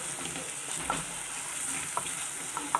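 Chicken tikka masala sizzles in a pan as salt is mixed in with a spoon, a steady bright frying hiss broken by occasional scraping strokes of the stir, fairly loud and close with no talking.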